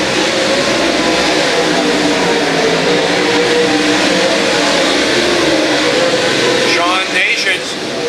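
Race cars speeding around a dirt speedway during a USMTS A-Main, their engines blending into a continuous, loud roar with rising and falling revs, while an announcer talks over it throughout.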